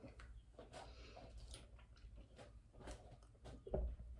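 Quiet, wet mouth noises of chewing and biting, with soft smacks and a slightly louder crunch near the end.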